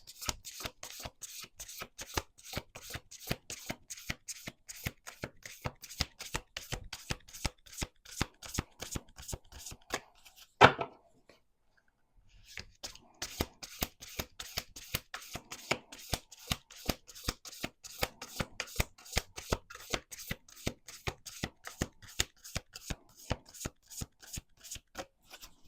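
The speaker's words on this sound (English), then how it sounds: "We're going to do 2 more shuffles." Playing cards being riffle-shuffled at a table, a rapid dense run of crisp flutters, then a short pause and another long riffle, close and fairly quiet with no talking.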